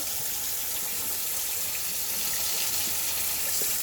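Running tap water rinsing raw lamb neck meat with vinegar in a kitchen sink, a steady close splashing gush that continues alone throughout.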